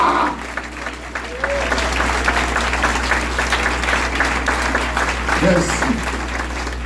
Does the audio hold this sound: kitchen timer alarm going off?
no